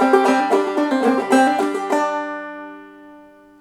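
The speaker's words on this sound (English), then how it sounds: "either hammering on or pulling off to our melody notes wherever we can" Close clawhammer banjo phrase from Pretty Polly, bright plucks and downstrokes mixed with hammer-ons and pull-offs to melody notes, about two seconds of rhythmic picking and then a chord left ringing to fade.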